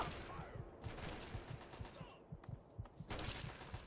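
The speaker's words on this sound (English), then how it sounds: "Stop shooting me." Rapid video-game gunfire from Fallout 3's Operation Anchorage add-on: steady bursts of close, punchy shots repeating in a quick rhythm throughout, with fuller volleys near the start and end.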